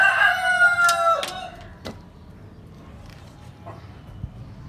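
A rooster crows loudly and close at the start, followed by a few sharp clucks and scattered knocks fading into quiet background.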